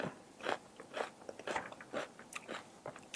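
Close, crisp crunching of fatty Thai pork rinds as someone bites and chews, a run of sharp bursts repeating roughly every half second, with no talking.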